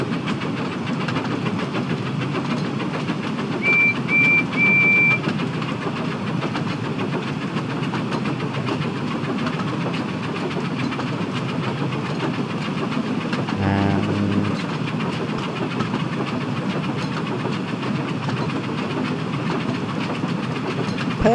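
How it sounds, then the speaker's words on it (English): Percy, a steam engine in a video game, runs with a Peckett-style exhaust note: a steady, continuous rolling chuff and rail rumble at an even level throughout, with no talking. "Percy has got a Peckett note to his exhaust."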